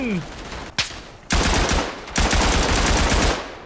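A mounted WWI machine gun turret fires in the Tannenberg video game, loud close sustained bursts broken by short pauses, after a single sharp report.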